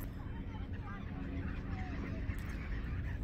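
A flock of seagulls cries at the winter seashore at Sapgyocheon in Dangjin, overlapping squawks and honks merging into a steady clamor over wind and water noise, with faint background murmur.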